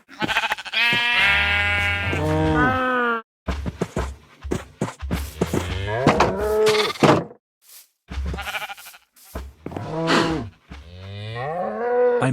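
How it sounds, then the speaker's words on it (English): Minecraft farm animals in pens, long wavering bleats from sheep mixed with cow moos, loud and close, sounding one after another with brief pauses and no speech. "I sheared the sheep for the wool."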